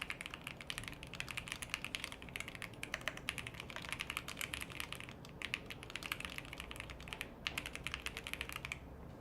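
Rapid, continuous clicking of fingers typing on a custom-built computer keyboard during a coding session, dense irregular keystrokes with brief pauses, close but fairly quiet, with no talking.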